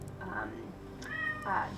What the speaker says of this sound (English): I apologize if you can hear my cat in the background.